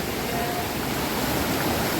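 A mountain river on a jungle climb, crossed on foot, fills the air with a loud, steady rushing roar of flowing water, close and unbroken throughout.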